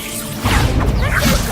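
Magical spell-casting effects from Hogwarts Legacy burst in: a sudden whooshing swish followed by crashing, whip-like impacts, loud and close in quick succession.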